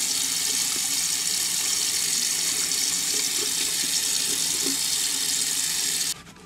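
Bathroom tap running steadily into a sink for rinsing a freshly shaved face, a continuous close hiss of water that stops abruptly near the end.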